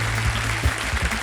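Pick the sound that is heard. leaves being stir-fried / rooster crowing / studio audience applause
studio audience applause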